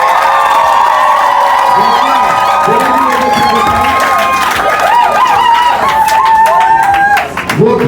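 A crowd applauds and cheers at a civil wedding ceremony at a town hall, loud and close, with shouting voices and chatter mixed through the clapping.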